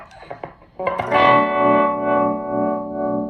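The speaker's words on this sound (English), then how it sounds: "I want them both to give this weird like multi-pulse effect" A few picked guitar notes lead into a sustained strummed chord that throbs with a multi-pulse modulation effect from an EHX Mod11 pedal, loud and close, slowly fading.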